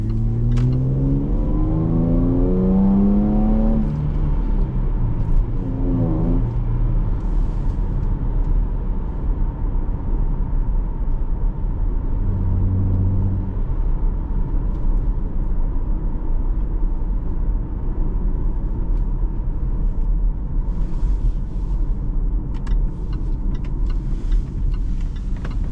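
A 2018 Jaguar F-Pace 35t Prestige with a supercharged engine accelerating on the road, rising through the revs in a few quick pulls, then settling into a steady cruising drone with whirring and road noise.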